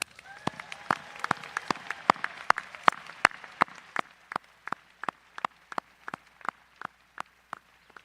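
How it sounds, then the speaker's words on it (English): Graduates at a Guilford College commencement are greeted by a crowd's applause, the claps sounding distinct and well spaced, dense and lively at first, then thinning to scattered single claps that slowly die away. "Might I ask that everyone gathered here today gives all of our graduates a round of applause"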